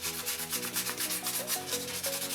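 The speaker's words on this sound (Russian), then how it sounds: "Теперь необходимо опять его зашлифовать. Вот эти все внутренние края." Close, steady rhythmic rubbing as the inner edges of a hand-carved coconut shell heart pendant are sanded, even strokes repeating back and forth with no talk.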